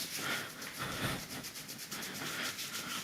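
Hands briskly rubbing over the knees to warm the joints, a steady dry friction swish repeating in quick strokes, close and fairly quiet with no talk.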